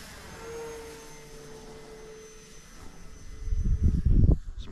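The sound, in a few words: Turbo Timber EVO RC plane flying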